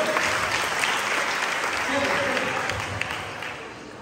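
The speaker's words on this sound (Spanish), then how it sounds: "un aplauso para todos entonces" Audience at a church conference breaks into steady, dense applause that carries through four seconds and begins to thin near the end, with some speech mixed in beneath the clapping.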